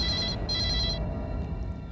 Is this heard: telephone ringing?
yes